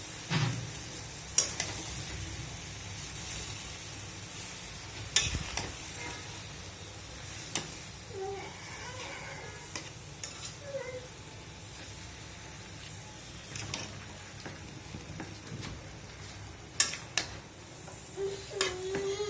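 Chinese-style vegetables stir-frying in a hot pan, a steady loud sizzle with occasional sharp clatters of stirring throughout, no voices.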